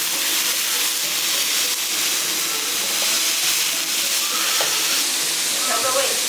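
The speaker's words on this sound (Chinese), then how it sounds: "把葱白炒香，倒入莴笋丝，翻它2下，倒入红椒丝" Scallion whites, shredded lettuce stem and red pepper strips stir-fried in a wok, a loud continuous sizzling hiss with occasional tossing and clattering, steady and close throughout, no speech.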